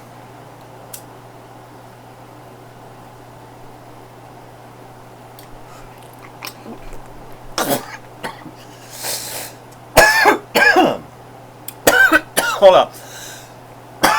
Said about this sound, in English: Just a guy coughing off camera.